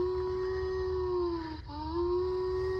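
A Star Wars creature collectible toy plays a looping electronic effect, a sustained howl-like wavering tone that dips briefly in the middle and then resumes, close and steady with no speech.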